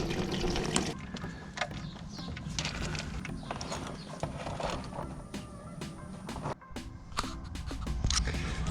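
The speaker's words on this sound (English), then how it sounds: "for now we're just going to start by draining the fluids out" Fluids draining from a 2005-2011 Volvo S40 2.4L five-cylinder engine during an oil pan job, a steady close splashing, trickling pour into a pan that runs continuously with a brief dip, no talking.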